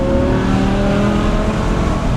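A BMW M6's V10 engine revs hard while driving, a loud, dense, steady roar with strong harmonic drone held throughout.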